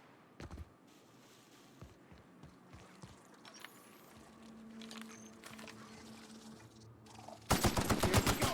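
Gunfire in The Outer Worlds video game: scattered faint shots early on, then a loud rapid burst of automatic fire near the end over quiet background ambience.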